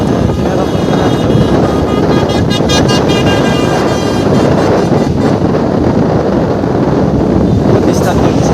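A vehicle horn honks repeatedly on a busy road near a town junction, sounding loud and close over constant traffic rumble and heavy wind buffeting.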